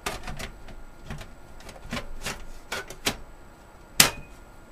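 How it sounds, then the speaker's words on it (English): Screws being driven into a drive bay track during a PC build, heard as a series of short sharp clicks and scrapes, one louder snap near the end, in a quiet room with no talking. "Run the screws into the track."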